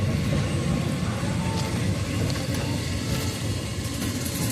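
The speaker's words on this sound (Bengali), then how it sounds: "দেখতেই পাচ্ছেন সুন্দরভাবে ট্রেনটি গোঘাট থেকে বেরিয়ে যাচ্ছে হাওড়ার দিকে।" A train pulling out of Goghat station heading towards Howrah, heard as a continuous low rumbling drone with steady mechanical noise and no clear horn.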